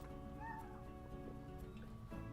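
A cat gives a faint, thin, plaintive meow early on, heard softly over a steady low background hum.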